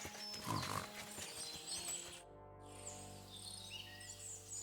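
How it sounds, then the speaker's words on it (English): Pig grunting in Kingdom Come Deliverance 2 game, a few short low grunts near the start, then a steady tonal hum with soft ambient bird and insect calls around it. "I found a stray pig."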